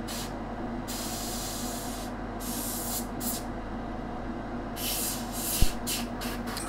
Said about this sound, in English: I forgot how much I like using this airbrush